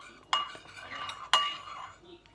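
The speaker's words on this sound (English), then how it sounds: "Just mixing it." A spoon stirring in a bowl, two sharp clinks about a second apart with soft scraping between them, close and fairly loud.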